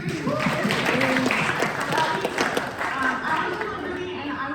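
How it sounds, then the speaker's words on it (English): An audience claps for Liberty University at a talk event. Steady, moderately loud applause continues throughout, with a voice speaking over it. "Let's get a round of applause for Liberty."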